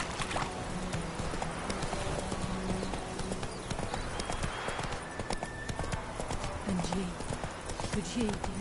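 Horse hooves clip-clop steadily on the ground in The Witcher 3, a close, continuous trotting rhythm under frequent talk between characters.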